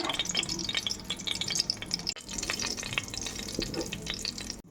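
Dried fenugreek leaves (kasuri methi) crushed into hot oil, giving a loud, continuous crackling sizzle with stirring scrapes, close and without talk.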